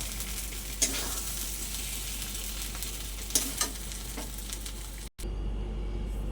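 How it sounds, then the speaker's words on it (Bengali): Pointed gourd and shrimp bharta stirred in mustard oil in a pan, a steady sizzle with a few louder scrapes of the spoon, close and continuous, briefly cutting out near the end. "সর্ষের তেলের সঙ্গে এটা ভালো করে নেড়ে চেড়ে আমি এটাকে নামিয়ে নেব"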